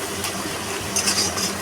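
Steady sizzling and frying of a spice paste being sautéed in oil for a pomfret fish curry, continuous and close, with a few brighter crackles toward the end.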